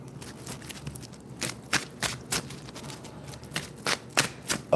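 Playing cards are shuffled in quick repeated riffles, crisp bursts of fluttering snaps coming close and clear, with short pauses between.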